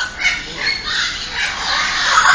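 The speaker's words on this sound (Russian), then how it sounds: "Вот так можно привлекать попугаев" Parrots squawk at a bird park in Singapore, a dense run of harsh, overlapping calls held at a steady, fairly loud level throughout, close by with no clear gaps.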